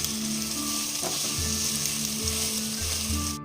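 Spice masala of cumin powder and Kashmiri chilli powder fries in oil in a pan and is stirred, giving a steady close sizzle with scraping strokes throughout and no speech.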